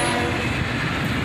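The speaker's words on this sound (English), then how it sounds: "A single ES44 ACH leads this southbound manifest train." A southbound manifest freight train led by a single ES44AC locomotive rumbles past close by, a loud continuous roar with a steady horn tone at the start.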